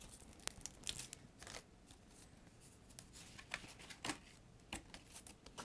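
An envelope found inside a uniform bag being opened by hand: a string of sharp paper crinkles, tears and rustles in irregular bursts, close and fairly quiet, with no talking.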